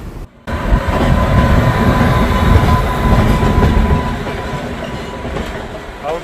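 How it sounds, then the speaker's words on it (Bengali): A passenger train rolls along after leaving Khurda Road station, heard from inside as a loud, steady rumble of wheels on track with faint clatter, starting abruptly after a brief quiet moment. "আমাদের ট্রেন প্রায় আধ ঘন্টা দাঁড়িয়ে খুর্দা রোড ছাড়লো"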